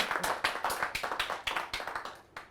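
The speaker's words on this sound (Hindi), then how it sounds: "जोरदार ताली स्वागत करें आप चंद्रशेखर मयूर जी का।" Audience at a Hindi kavi sammelan clapping to welcome a poet, a quick uneven run of hand claps, fairly faint and without voices.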